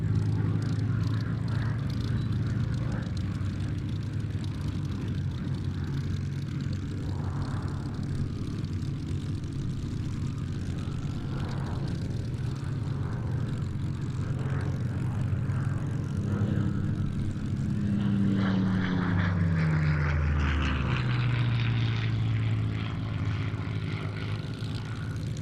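A Spitfire propeller warbird in an airshow flying display, a steady droning engine heard at a distance that grows in the second half, with a falling pitch sweep as it passes overhead.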